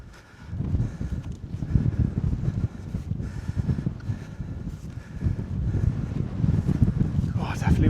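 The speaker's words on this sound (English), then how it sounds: "Definitely windier up here." Strong gusts buffeting the microphone on an exposed Dartmoor tor in Devon, a continuous low rumbling roar rising and falling throughout, with a person speaking under it.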